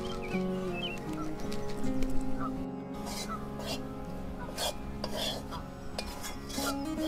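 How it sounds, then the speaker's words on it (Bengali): Wheat flour roasting in hot ghee in a pan, stirred steadily with a utensil for magaj laddu; continuous scraping and soft sizzle, with occasional clinks of the spoon against the pan. "এবারে ঘি এর সাথে আটাটা ভালো করে ভেজে নেব।"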